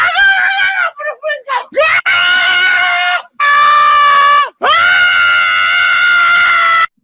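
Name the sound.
person screaming loudly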